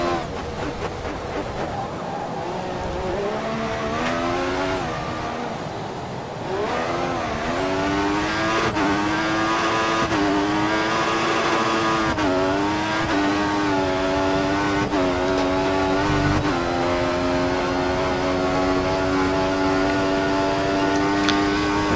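Formula 1 car engine from the F1 2014 video game screaming at full throttle down a straight in China qualifying, high-pitched whine climbing through repeated upshifts, loud and steady throughout with no talk.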